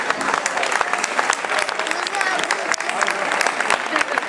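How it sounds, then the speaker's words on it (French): A crowd at an evening sports event claps loudly and briskly for an athlete being introduced, with sharp individual claps standing out from the sustained applause. "on peut applaudir"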